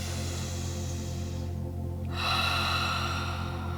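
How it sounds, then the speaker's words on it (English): A deep breath is drawn in and let out during a slow flow yoga session, a long airy inhale followed by a fuller, louder exhale over a steady low hum, without speech. "Breathing in and breathing out."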